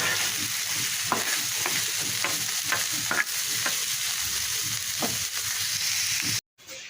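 Boiled red amaranth greens with salt and green chillies frying in hot oil, a dense continuous sizzle close by with soft intermittent stirring scrapes, cutting off abruptly near the end.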